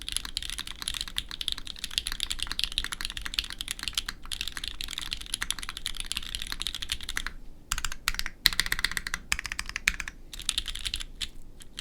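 Steady typing on a Ditto mechanical keyboard, a dense stream of close, crisp key clacks with brief pauses and a few sharper strikes near the end.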